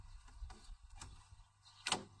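A door on a fly-proof enclosure for drying catfish shuts with a few soft knocks and rattles, then one sharper closing clack near the end, heard close and alone.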